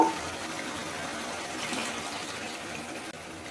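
Hot water pours in a steady, rushing stream into a pot of beef rezala, an even, close splashing that lasts throughout without any talk.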